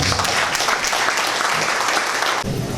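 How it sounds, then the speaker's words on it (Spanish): Strong audience applause welcoming a doctor to the stage at a legal lecture event, dense and loud clapping from a large crowd that continues throughout, ending abruptly. "Recibamos con un fuerte aplauso al doctor Carlos Herrera"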